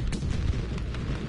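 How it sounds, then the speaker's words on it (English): Artillery strike in a video game lands as a muffled rumble of blasts, a couple of soft bursts amid a steady low roar at moderate distance. "their artillery strike"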